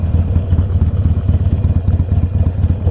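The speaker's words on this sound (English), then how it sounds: "even non-motorcycle people like the sound of a Harley." A Harley-Davidson Iron 883 motorcycle engine rumbles close by in a steady, deep, lumpy idle-like cadence of rapid pulses, loud and alone without any talk.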